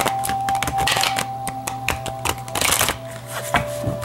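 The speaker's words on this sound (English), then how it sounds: "Cards are not being cooperative tonight when it comes to shuffling, but we'll get there." A deck of cards shuffled over and over, giving close, crisp riffling bursts and soft flutters in an uneven rhythm, with no talking over a steady low hum.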